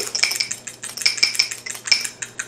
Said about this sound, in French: j'ai 350 ml de crème et 4 jaunes d'œufs. Je vais les battre un tout petit peu.